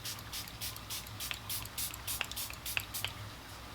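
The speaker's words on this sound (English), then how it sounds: "I'm gonna set my face. The Charlotte Tilbury Airbrush Flawless Setting Spray." Charlotte Tilbury Airbrush Flawless Setting Spray mists onto a face in several quick, soft hissing puffs, spaced unevenly and heard close and quiet against a low background hum.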